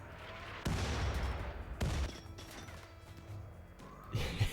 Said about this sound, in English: Stop firing the mortars, because we don't need to anymore.